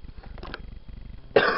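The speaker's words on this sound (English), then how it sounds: "Stop coughing. People are gonna think you're dying." A single harsh cough bursts out near the end after a stretch of low rumbling background, loud and close.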